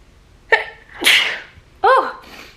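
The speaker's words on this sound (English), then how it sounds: "I'm also gonna sneeze." A single person sneezes indoors, a sharp close gasp and burst followed by a short vocal sound, alone without speech.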